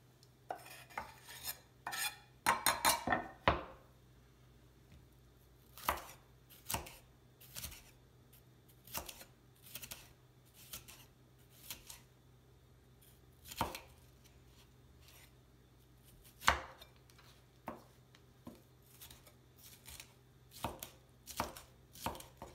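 Knife chopping on a board for German potato salad in quick bursts, a rapid flurry early on, then spaced single chops and short runs of cuts, close by with no talking.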